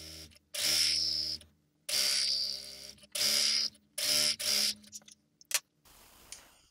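A sewing machine stitches the side seams of a bias-cut skirt in four loud bursts of whirring, separated by short pauses, ending with a few faint clicks and handling sounds.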